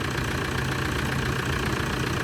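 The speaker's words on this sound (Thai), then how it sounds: "เครื่องยนต์นะครับ ดังเรียบนะครับ" A Toyota Hilux Vigo pickup truck engine idling smoothly at close range, a constant even drone with a faint rhythmic knock and no talking.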